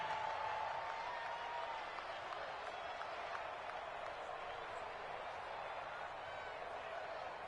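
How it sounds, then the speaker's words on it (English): A virtual stadium crowd in a Madden 20 football game, Jets versus Steelers, roars steadily ahead of a big third down. The wash of noise stays constant under speech. "The crowd getting into it as we come up on a big third down."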